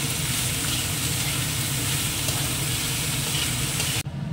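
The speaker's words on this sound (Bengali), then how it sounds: "কালো জিরা আর কাঁচা লঙ্কা দিয়ে শুধু ভাজা হবে" Bottle gourd peel bori fries in oil with nigella seeds and green chilli, a dense, loud, continuous sizzle heard up close that stops abruptly near the end, with no voices.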